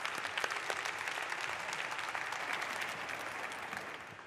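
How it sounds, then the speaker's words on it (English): A forum audience gives sustained, even applause, a steady wash of many hands clapping throughout at moderate distance. "Please give them a warm round of applause"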